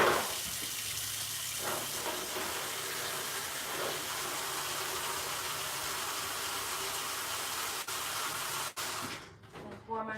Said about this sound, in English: so I can add more water to it.